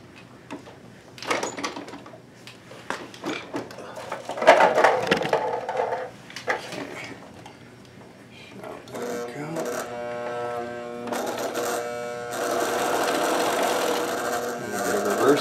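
After some handling and clicks, a sewing machine fitted with a swing-away binder starts stitching binding on a 3D printer cover, running in a steady close whir that builds toward the end.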